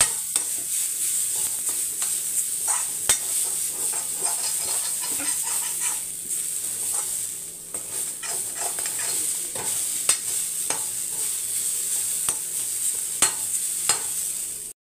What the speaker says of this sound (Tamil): இப்போ இந்த வானலிலேயே தேங்காய் துருவல் இதையும் நல்லா கோல்டன் ப்ரௌனில் நம்ம வறுத்துக்கணும்